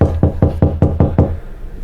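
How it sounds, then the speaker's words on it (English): Six firm knocks on a door in a steady, evenly spaced rhythm, loud and close, ending in a short quiet tail. "Sounds like someone knocking on the door"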